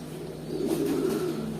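Racing pigeons in a loft giving a low, steady cooing murmur that swells and holds, close and clear with no talk.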